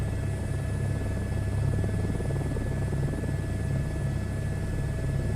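A helicopter flies in a video game, its rotor and engine making a steady, close, low thrumming buzz that holds evenly throughout with no talking.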